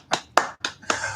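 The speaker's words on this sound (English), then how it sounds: "Okay, that's the hand clap," Five sharp, separate hand claps spaced about a quarter second apart, close and crisp, with a short ringing tail after each and no talking, opening a weekly live show.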